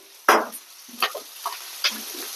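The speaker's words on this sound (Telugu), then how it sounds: "బాగా ఆనియన్స్ దూరగా వచ్చేలాగా వేయించుకోవాలి" Onions with mustard seeds and curry leaves frying in a pan, giving a few brief sizzling bursts as they are stirred, close by against a quiet background with no talk.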